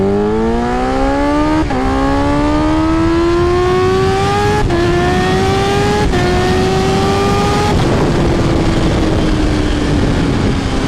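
A Kawasaki Ninja H2 motorcycle accelerates hard through several gears, its loud engine whine climbing in pitch and dropping at each of four quick upshifts, close and alone without talk.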